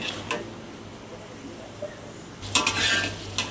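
Spice paste for Padang-style chicken gulai sautéing in a pan, a low steady sizzle broken by metal spoon scrapes and clinks, with a louder burst of stirring and clatter near the end.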